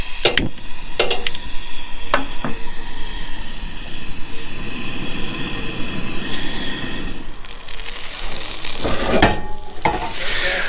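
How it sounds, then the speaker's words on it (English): Steak, peppers and mushrooms sizzling on a grill at a riverside campsite, a steady loud frying hiss with a few sharp pops and clicks, no talking. "So tonight we're gonna have steak, some pepper with mushrooms, all grilled up"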